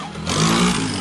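A motorcycle engine revs up sharply partway through, its rough mid-pitched roar rising loud and close and holding steady to the end.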